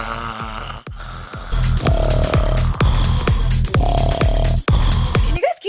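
Several people snore together, loud rhythmic rasping snores repeating roughly every second, layered and close, with a sharp break near the end.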